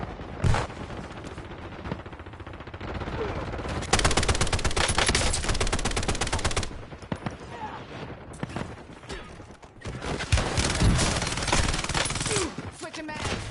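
Heavy gunfire in Call of Duty Warzone, with sustained automatic bursts and rapid volleys. The shooting is loud and nearly continuous across the clip, with brief lulls between the bursts.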